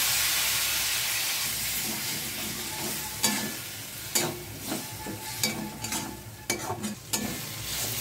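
Turmeric, cumin and coriander powders with tomato, green chili and a splash of hot water are sautéed in a pan for Bengali egg posto curry. A steady loud sizzle runs throughout, joined midway by irregular clattering stirs and scrapes.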